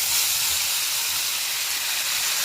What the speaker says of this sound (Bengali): এবার বাটা মশলাটা ঢেলে দিচ্ছি